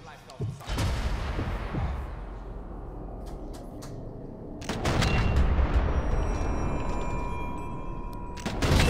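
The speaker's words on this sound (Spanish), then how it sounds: "disparo en el estómago, pero tampoco lo silencia porque no me ha dado tiempo" Gunfire in the Sniper Elite 4 video game, set in an Italy campaign: a heavy booming shot rolls into a long rumbling decay, followed by another loud blast and sustained noise, with someone speaking underneath.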